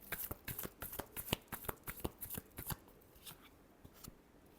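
A deck of tarot cards being shuffled by hand, a quick run of soft riffling flicks and slaps, close but quiet, tapering off toward the end.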